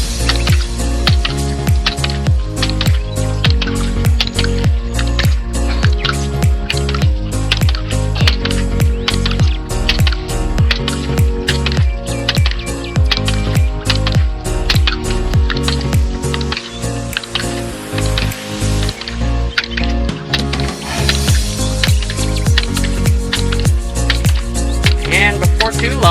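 A hydraulic ram pump clacks in a steady, rapid rhythm, each beat sharp and regular, with water sloshing through it close by.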